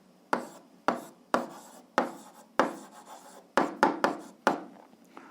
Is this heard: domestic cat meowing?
no